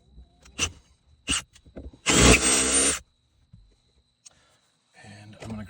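A power drill bores a hole through the dash of a 1996-1998 Jeep Grand Cherokee ZJ during a dash bar install, one loud sustained burst of about a second after a few short taps, with quiet talk nearby.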